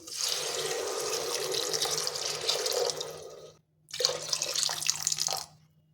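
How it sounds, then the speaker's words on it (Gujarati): Water pours in a steady, continuous stream into a pressure cooker for rice and peas, breaks off briefly, then resumes before stopping. "તો હવે આપણે એમાં પાણી ઉમેરીશું।"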